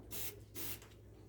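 Two quick bursts of Lysol cleaner sprayed onto a stove top, each a loud, airy hiss lasting about a quarter second, with no talking.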